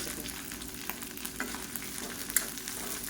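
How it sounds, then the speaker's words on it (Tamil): Chopped onion and garlic fry in a pan of oil alongside dried red and Kashmiri chillies, giving a steady, close sizzle with a few faint stirring clicks and no voices. "இப்போ வெங்காயம் பூண்டு எல்லாம் நல்லா வதங்கிடுச்சு"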